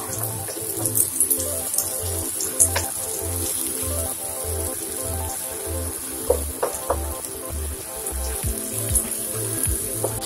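Bacon sizzles in a pan with onion, minced garlic and a pinch of salt for a cassava-flour farofa, a steady close frying hiss over a rhythmic low thumping pulse, with no talking.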